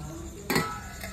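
A lid drops onto a cooking pot of chickpea chicken curry with a single quick metallic clink, fairly close, followed by a faint ring and low kitchen background noise.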